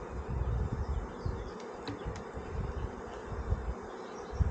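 Honeybees swarm around an open hive on a homestead, a dense, close buzzing drone that wavers and swells continuously with individual bees zipping past the ear.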